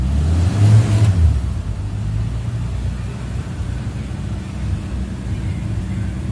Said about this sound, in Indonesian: Suaranya masih halus, enak ini mesin.